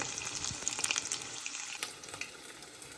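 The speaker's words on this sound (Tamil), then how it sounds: "3 வடை போட்டு காட்டினான். பொரிஞ்சு கொண்டு இருக்குது." Vadai frying in hot oil, a steady close crackling sizzle with bright bubbling bursts that ease slightly toward the end, no voices.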